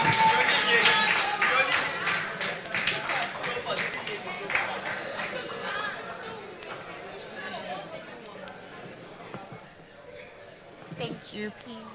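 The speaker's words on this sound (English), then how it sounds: "Oh, well done. Please let's clap for her." Conference audience clapping for a prize winner, dense applause that starts strong and gradually thins out over several seconds while people chatter and talk underneath, ending in scattered murmurs.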